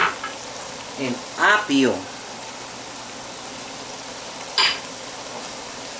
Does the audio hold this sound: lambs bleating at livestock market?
no